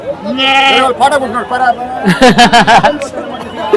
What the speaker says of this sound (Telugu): ఇక్కడ వచ్చేసి మనకి ఎర్ర మేకలు వేరు వచ్చేసి పిల్ల మేకలు ఉన్నట్టున్నాయి